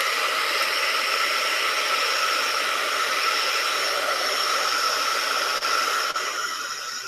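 A hair dryer blows on a damp art journal page, giving a loud, steady, close whooshing hiss that runs unbroken for about seven seconds, with no talking.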